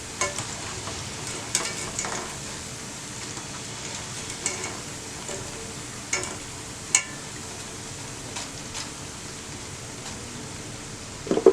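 Cabbage pakoda deep frying in hot oil gives a steady, moderately loud sizzle throughout, broken by occasional sharp crackles and the clink of a stirring utensil, with no talking.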